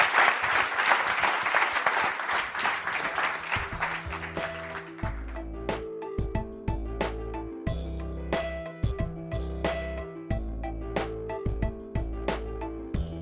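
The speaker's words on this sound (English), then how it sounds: "please give a huge round of applause for DJ and Anne" Audience applause after a talk at a startup networking event, loud at first and fading within about five seconds, then giving way to a rhythmic music track with a steady beat.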